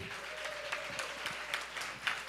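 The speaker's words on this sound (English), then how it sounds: "can you guys give a round of applause," Applause from a gala audience at a Kingdom of Kush anniversary celebration in New York, steady dense clapping throughout with a faint sustained tone beneath.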